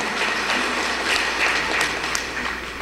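An audience at a Tamil pattimandram debate breaks into continuous clapping, a full crackling wash of many hands with a few sharper individual claps standing out.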